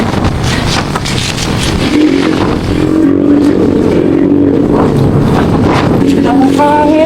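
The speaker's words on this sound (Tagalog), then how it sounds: "Ay, lakas ng hangin." Strong wind buffets the microphone on a road trip from Manila toward Mindanao, a loud, continuous roaring rumble with a vehicle engine droning underneath and gusts swelling and easing.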